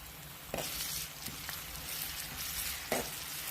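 Ginger garlic paste sizzles steadily with onion in a hot pan, a close, even frying hiss broken by a few soft clicks of stirring, with no talking.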